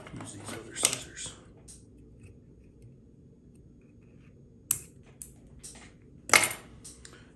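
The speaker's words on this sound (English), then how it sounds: "Use these other scissors." Small scissors snip thread at a fly-tying bench while a Woolly Bugger is tied: a few sharp, close metallic clicks and snips spaced apart, with soft handling noises and quiet background between them.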